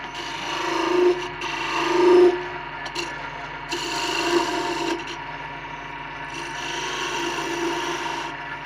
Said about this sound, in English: I'll grab the skew and throw a couple of beads into it.